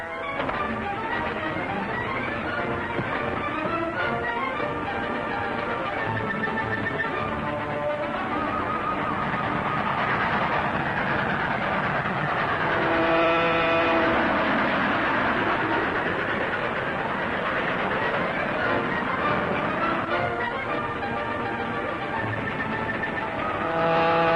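A train rumbles steadily along the rails in a 1940 film serial, a continuous loud roar with some rhythmic clatter and a swelling passage midway, no voices.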